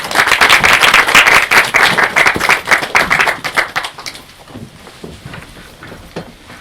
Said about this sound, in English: So let's give a round of applause to Olga and Dr. Orr.